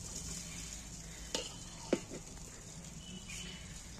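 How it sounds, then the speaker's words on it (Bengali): Cooked rice stirred and frying in a spoonful of ghee in a pan for mutton biryani: a faint continuous sizzle with a few quick spoon scrapes against the pan, close, no voices. "ঘিটা দিয়ে আমি এটাকে ভালো করে চালিয়ে নেব। প্রথমেই আমি ভাত চালিয়ে দিচ্ছি"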